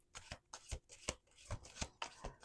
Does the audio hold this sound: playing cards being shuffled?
yes